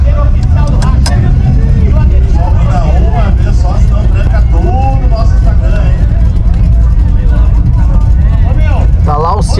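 A Volkswagen Santana at the Tarumã drag race track, heard as a loud, steady engine rumble from close by while someone talks over it throughout.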